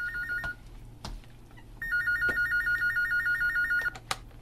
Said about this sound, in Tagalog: Oy, telepono.